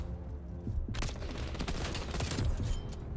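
Bursts of M16 rifle fire in the Black Ops multiplayer video game burst out abruptly after a brief quiet start, then continue as dense, rapid, loud gunfire with no talk.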